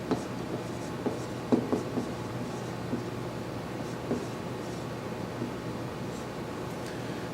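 A pen scratches notes by hand in short, faint strokes over a quiet background hiss, with no talking.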